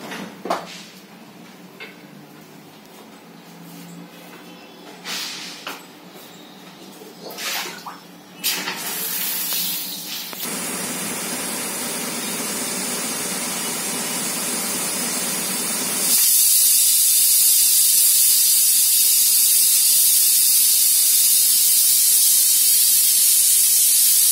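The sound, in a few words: curry boiling with steam hissing in covered pot on gas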